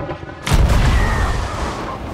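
In Sea of Thieves, a ship's cannon fires once after a short quiet moment: a sudden loud boom followed by a rolling rumble that fades slowly.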